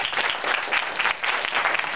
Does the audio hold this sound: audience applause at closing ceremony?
yes